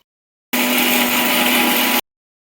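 A mixer grinder grinds spice paste with water, whirring loudly for about a second and a half, a steady motor whine that starts and stops abruptly amid silence.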